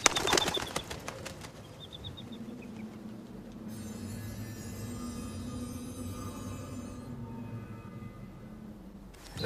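A bird's wings flap in flight at the start, then a steady low rumble and a rushing, train-like bed of sound continue underneath for several seconds in a fantasy film scene.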